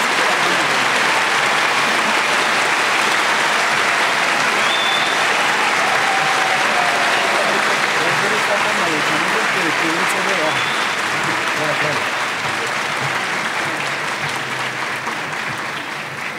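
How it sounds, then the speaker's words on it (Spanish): Prolonged applause at a university graduation ceremony for new business administration graduates, a large crowd clapping in a steady, dense wash for over fifteen seconds, with faint voices mixed in. "Ofrecemos un fuerte aplauso a los nuevos administradores de empresas"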